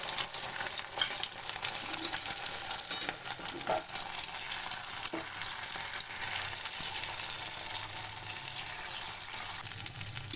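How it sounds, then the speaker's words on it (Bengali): Beaten egg for an omelet fries in a kadai, giving a steady, moderately quiet sizzle with light scraping and stirring sounds throughout and no talking. "কড়াতে ডিমটা দিয়ে দিলাম"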